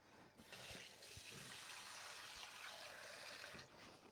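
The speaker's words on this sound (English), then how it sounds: "Now what I'm going to do is just put some cold water into here." Cold tap water runs into a pan in a home kitchen, a steady close gushing fill that starts abruptly, holds level for a few seconds and then tapers briefly near the end.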